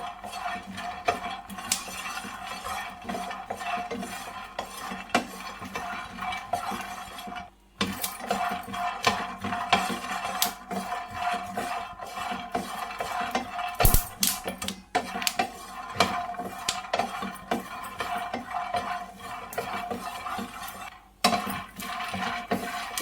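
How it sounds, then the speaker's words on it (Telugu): Peanuts roasting in a pan, stirred continuously: busy scraping, clinking and rattling of nuts against metal, steady and close, with brief pauses. "మంచిగా దగ్గరుండి ఏం మాడకుండా అన్ని వైపులా వేగేటట్టు మంచిగా వేయించుకోవాలి పల్లీలు"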